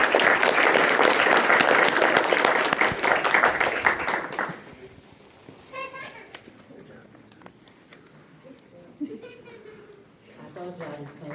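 An audience at a career academy ceremony claps in a loud, dense burst of applause for about four seconds, then it drops away to a quieter room with scattered voices.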